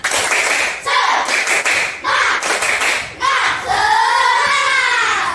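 A school class performs a rhythmic 'tepuk semangat' clapping chant, bursts of loud group claps in patterned beats separated by short pauses, with children's voices chanting between and over the claps.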